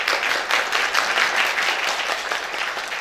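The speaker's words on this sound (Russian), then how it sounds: "я хочу, чтобы вы поприветствовали ее аплодисментами и поддержали" Applause from an audience at a school teacher-and-student event, a full, steady clatter of many hands clapping together, fairly loud and unbroken for about three seconds.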